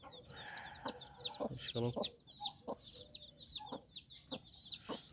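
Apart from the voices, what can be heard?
chicks peeping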